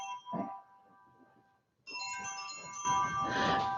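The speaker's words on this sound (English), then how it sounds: "It's not my ringtone." A mobile phone ringtone plays as a thin repeating electronic melody, pausing briefly before ringing again more loudly, with faint room noise beneath.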